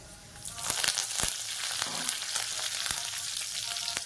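Dried chili and curry leaves frying in hot oil for South Indian rasam, a close, steady sizzle with sharp crackling pops and a few faint stirring scrapes, no voices.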